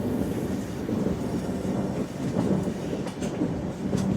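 Barauni–Gondia Express train rolling on rails while changing track, steady rumbling wheel noise with irregular clicks and rattles from points, heard from inside or close by, continuous and moderately loud.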